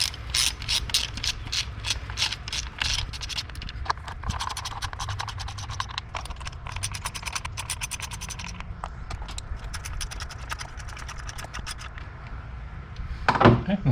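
A ratchet loosens the 10mm ignition coil bolts on a Kia 2.4L engine from a 2017-era Sportage, Sorento or Optima, giving long runs of rapid, close clicking with brief pauses and a louder clatter near the end.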